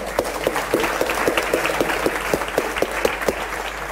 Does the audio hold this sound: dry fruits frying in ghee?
no